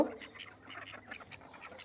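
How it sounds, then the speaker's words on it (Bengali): Domestic ducks being let out in the early morning give a flurry of rapid, overlapping quacks, fairly faint and continuous throughout. "এই যে আমার হাঁসগুলোকে আমি ছেড়ে দিচ্ছি"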